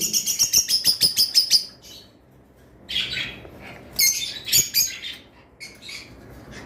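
Lovebirds for sale in a shop chirp in rapid, bright bursts, a dense run of calls at the start and further clusters later, close and loud with no talking.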